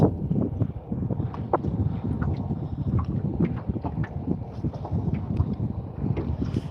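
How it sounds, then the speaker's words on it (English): Gusty wind buffets the microphone with a constant low rumble, along with scattered knocks and splashes like a small boat on the water. "Starting to get windy-ish."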